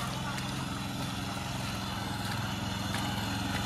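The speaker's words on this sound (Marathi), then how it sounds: "हा बघा हा ट्रॅक्टर करतोय" A tractor ploughing a wet rice paddy at a village farm, its engine giving a steady, loud low rumble throughout with broadband outdoor noise on top.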